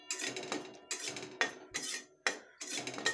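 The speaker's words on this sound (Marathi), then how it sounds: "सतत हलवत राहायचं" A utensil scrapes and clinks against a pan while flour roasts for jaggery poli, in five distinct strokes with brief pauses between, close and clear.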